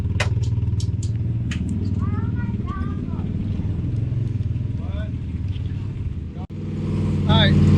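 Chevy 350 small-block V8 in a Fox body Mustang, a loud throaty rumble under partial throttle, with voices talking over it, then swelling louder near the end.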